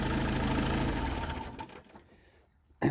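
A Kubota L4060 Limited Edition tractor with a 4-cylinder engine idles quietly and steadily, then shuts off and dies away to near silence, followed by a sudden sharp noise at the very end.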